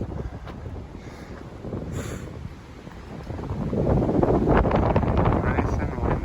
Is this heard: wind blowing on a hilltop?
yes